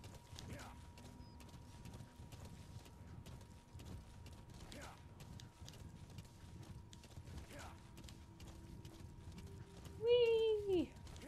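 A horse in the video game Metal Gear Solid V trots along in a soft, regular clip-clop of hooves under faint game ambience, ending in a brief louder whinny-like sound near the close.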